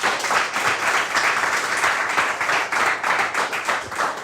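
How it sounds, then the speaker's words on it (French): A studio audience at the end of an episode of the French TV show Professeur Auto-École gives a loud, dense, steady round of applause that fills the whole moment. "on s'applaudit très fort"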